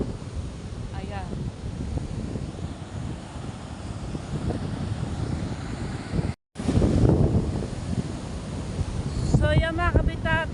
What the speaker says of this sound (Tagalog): Andito na po tayo sa lumalakas po ng hangin